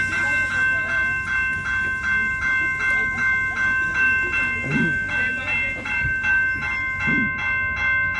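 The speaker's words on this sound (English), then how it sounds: "The one and only beautiful CP Holiday Train, our main attraction tonight." The CP Holiday Train rolls past Montréal-Ouest at night, a steady rumble with rhythmic wheel clacks and bright high tones across the passing cars, while a crowd murmurs and voices call out nearby.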